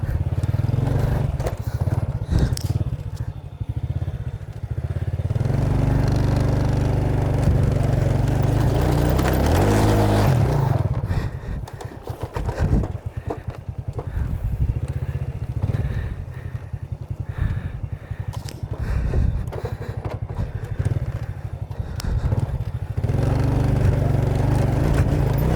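A motorcycle engine labors up a steep mountain road between Alilem, Ilocos Sur and Kibungan, Benguet, droning continuously and shifting pitch midway, loud and close throughout.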